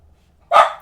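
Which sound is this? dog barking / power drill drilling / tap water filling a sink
dog barking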